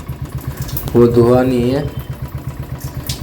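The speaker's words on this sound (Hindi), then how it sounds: "ये स्टैंडर्ड 350 है और ये बाइक स्टार्ट है।" A Royal Enfield Bullet Standard 350 idles with a steady, close, thumping single-cylinder beat. The engine has a sound fault and oil vapour rising from its filter box. Someone speaks over the engine partway through.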